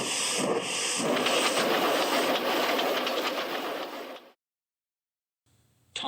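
Steam engine puffing along the rails: a dense, rushing, rhythmic chuffing noise, close and steady for about four seconds, then abrupt silence and a brief faint return at the end.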